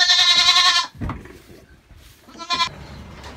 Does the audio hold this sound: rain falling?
no